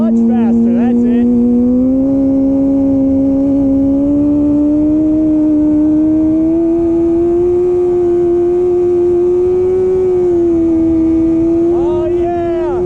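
A Kawasaki ZX6R motorcycle holds a steady high-revving engine note during a rolling burnout, loud and close, with the pitch climbing slowly and a rider's voice heard over it.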